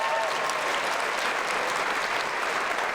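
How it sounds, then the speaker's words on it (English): A crowd claps steadily and loudly at a youth poetry slam championship, a dense, even wash of applause lasting the whole moment without letting up. "If you give a round of applause for Wyden Kennedy,"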